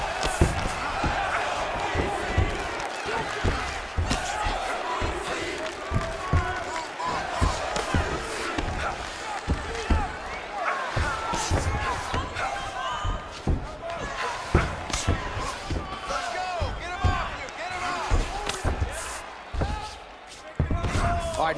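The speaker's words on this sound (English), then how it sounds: "the ground and pound strikes continue to rain down" Ground and pound punches in the video game UFC 4, thudding in dense, repeated impacts over a constant arena crowd roar, with commentary talking throughout.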